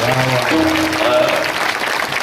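An audience at a Dnyaneshwari parayan ceremony and kirtan in Ishwar Wathar claps for the organising committee. The applause is dense and steady throughout, with faint sustained tones underneath.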